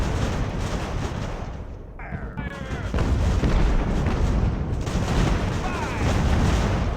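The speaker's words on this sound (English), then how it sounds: "The longer we let those cannons shoot at us, the worse it'll be." Rumbling cannon booms and naval battle noise in the video game Ultimate Admiral: Age of Sail roll continuously, loud and dense, with a brief dip before the barrage swells again.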